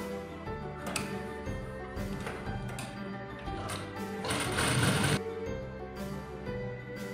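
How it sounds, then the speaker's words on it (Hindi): Sewing machine stitching a churidar salwar, running steadily at close range for several seconds with a continuous rhythmic whir and needle clatter, briefly louder near the end, no talk. "अब हम यहाँ से सिलाई मार के लेंगे।"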